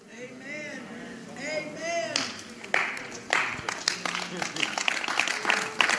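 Church congregation clapping during a sermon: a brief voice first, then a burst of many hands clapping, rising from scattered claps into steady, close applause.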